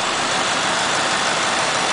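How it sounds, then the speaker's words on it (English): A 2009 Cadillac DTS with its Northstar V8 idling under an open hood, giving a steady, even rumble with no breaks. "North Star V8."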